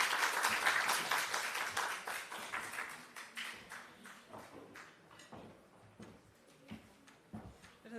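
Applause from a conference audience at a national health research conference after a presentation, starting as dense, loud clapping that thins into scattered, fading claps.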